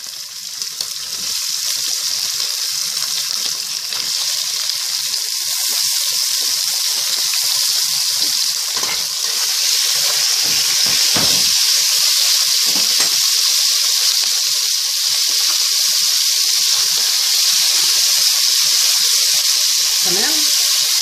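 Shrimp and seafood sizzle steadily in a hot pan for a seafood soup, a loud, continuous frying hiss with occasional stirring clatter throughout.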